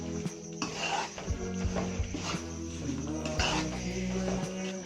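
Panjiri ingredients being stirred and mixed in a pan, with repeated scraping and clinking of a spoon against the metal and a faint sizzle beneath, steady and close throughout.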